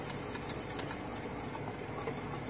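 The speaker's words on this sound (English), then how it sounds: "Stir, stir, stir." Polenta with grated Parmesan stirred in a copper pot, a continuous thick scraping and swishing close by.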